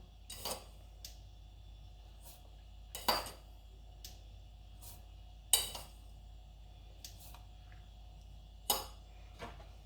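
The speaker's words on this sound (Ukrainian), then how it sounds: "Тепер я це все перемішаю." A metal spoon stirs tomato juice in a pot, knocking against its side in a handful of sharp, irregular clinks over a quiet background.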